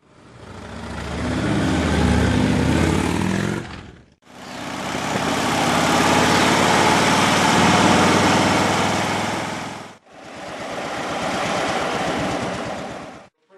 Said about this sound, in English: let's hop on the bike and take a spin.